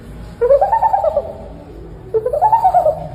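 A voice imitates a dove's call twice, each a rising, warbling coo lasting about a second, with a short pause between.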